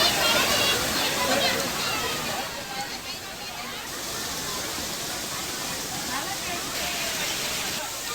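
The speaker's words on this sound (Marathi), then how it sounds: "मूल तालुक्यामधील सोमनाथ धबधबा चांगलाच प्रवाहित झालेला आहे।" Somnath waterfall in Mul taluka, Chandrapur district, runs full in the monsoon, a continuous loud rushing roar of falling water that stays close and steady throughout.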